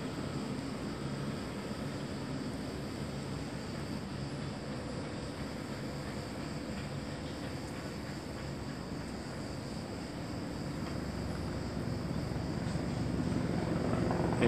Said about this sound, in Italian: Elicottero va, l'altro viene.